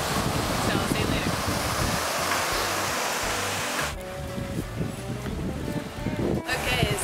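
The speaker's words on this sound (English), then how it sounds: "I'm going to go lay on the beach and Colin is trying to stay here in the shad" Surf breaking on a beach on a hot day, with steady rushing waves and heavy wind buffeting the microphone throughout, the roar easing a little in the second half.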